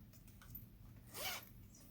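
A single quick zip closing a knitting bag with needles inside, a short close rasp rising out of a quiet background, with no talking.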